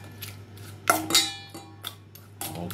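Raw shrimp for gambas tossed in a bowl, with clinks and scrapes of a utensil against the dish in a few irregular bursts over a low background hum, close by.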